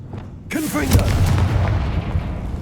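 Confringo blasting spell from Hogwarts Legacy erupts in a sudden loud burst, then rumbles on with a booming fiery roar under a voice speaking over the din.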